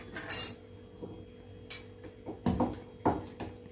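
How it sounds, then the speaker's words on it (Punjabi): An iron kadhai is set down on a village stove in Punjab, giving several sharp metallic clanks and knocks spread out over a quiet background hum. "ਅਤੇ ਆਪਾਂ ਇੱਧਰ ਧਰ ਦਿਆਂਗੇ ਕੜਾਹੀ"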